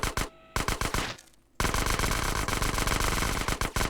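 Micro SMG (Uzi) fire in GTA San Andreas at a shooting range, loud rapid automatic bursts broken by a couple of brief pauses, then sustained fire to the end.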